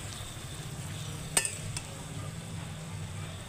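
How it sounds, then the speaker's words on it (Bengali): Ginger-garlic paste sizzles in a pan for chicken curry cooked over a clay stove, a steady soft frying hiss with one brief metallic clink of a utensil against the pot. "এখন আদা রসুন বাটা দিয়ে দিচ্ছি"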